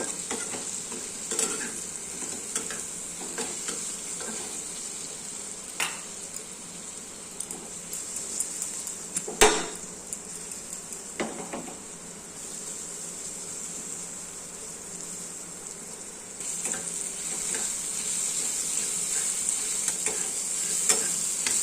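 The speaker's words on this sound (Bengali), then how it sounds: "আমগুলো আমার ভাজা হয়ে গেছে" Raw mango pieces with salt and a pinch of turmeric sizzle steadily in a pan for chutney, with continuous frying hiss and repeated stirring scrapes, one sharp clack midway.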